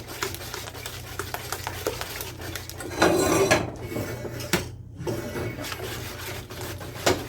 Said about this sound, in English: I got the eggs added, and I'm whisking those in